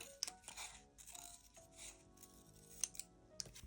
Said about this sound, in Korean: 여기도 한번 더 가위로 길쭉하게 잘라줍니다.